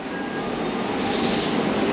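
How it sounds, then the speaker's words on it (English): A funicular railway car climbs toward Taksim in Istanbul, giving a steady, loud rumbling roar of wheels and rails with a faint rising hiss, heard close up from inside the car. "This one cost me, I think, around 15 lira for this quick funicular journey, which takes us up to Taksim."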